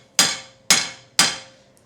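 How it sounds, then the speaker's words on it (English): Three sharp, evenly spaced hammer blows strike a wooden stake being driven into soil outdoors, each a crisp, close impact with a short ringing decay. "Try a slightly heavier hammer."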